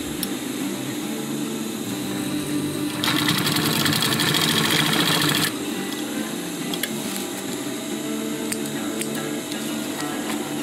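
A sewing machine stitches a chest pouch in one loud, steady burst lasting a couple of seconds, set against a quieter background hum before and after.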